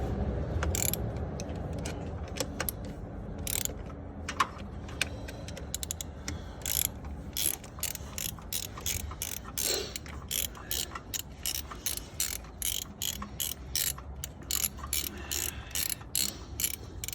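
Torque wrench ratcheting intake manifold bolts on a 2011 Toyota Avensis 2.0 D4D diesel, rapid rhythmic clicking in long repeated runs, close and crisp, growing steadier toward the end with no talk over it.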